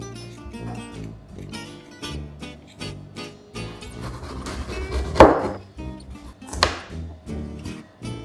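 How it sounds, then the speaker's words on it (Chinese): A knife slices through peeled old ginger on a chopping board, a steady run of crisp, close chops and taps with a sharper knock near the middle, no one talking. "再来，我们就要切老姜，"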